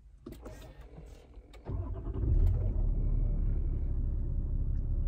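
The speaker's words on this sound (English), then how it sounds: "Sounds like a turbo diesel starting." Toyota LC300 turbo diesel fitted with a 3.5-inch stainless steel DPF-back exhaust cranks over inside the cabin, then catches and settles into a steady, deep low rumble at idle.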